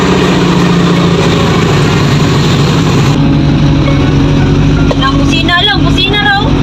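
A Daihatsu Feroza engine runs steadily right after being repaired, a loud, close, continuous rumble with a low droning hum, and voices come in briefly near the end.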